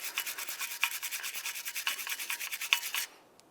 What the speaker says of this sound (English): You can use some sandpaper or a wire brush for this.